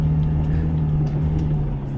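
Toyota Land Cruiser 2025 crawling slowly through mud, a steady low engine drone with a faint hum and light rumble underneath, close and continuous at moderate level.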